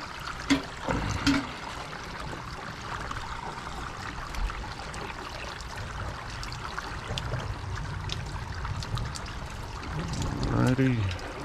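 Water runs from a garden hose into a pool filter, a soft, steady trickle and splash that continues at low level, growing a little louder and gurgling toward the end.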